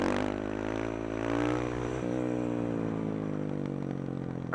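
Supermoto motorcycle engine revving steadily through wheelies, a loud continuous harmonic drone that rises and falls slightly in pitch across the stretch, close and unbroken with no talking.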